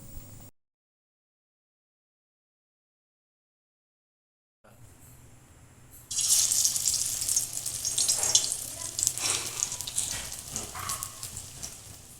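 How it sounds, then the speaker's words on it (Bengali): Spiced gram-flour-coated bread pakoras go into hot oil in a kadai. After a stretch of silence comes a soft hiss, then a steady, bright bubbling sizzle that runs to the end. "তেল গরম হয়ে গেছে, এবার আমি ভেজে নেব।"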